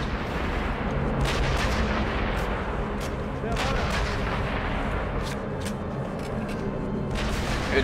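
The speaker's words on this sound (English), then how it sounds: "Probably the guy who was shooting at you a moment ago, and you were shooting at yourselves." Gunfire in the video game Sniper Elite V2, with sharp shots and booming reports over a dense, continuous battle din, loud throughout.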